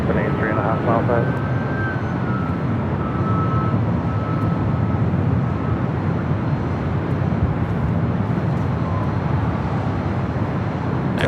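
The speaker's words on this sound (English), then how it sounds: "that is WestJet flight 1101 heading back to Toronto in the 737-800" A WestJet Boeing 737-800 departing LAX for Toronto produces a sustained jet roar with a thin high tone early on, as someone talks over the noise.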